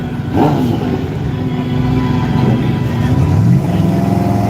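A drag racing car at a Grand Prairie drag strip revs loudly up close, its turbo spooling with a rising, building whine over a steady roaring engine.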